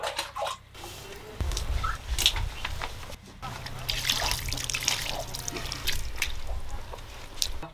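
Water poured for washing feet, an uneven trickle and splash with drips, close by and moderately loud, with faint background sounds.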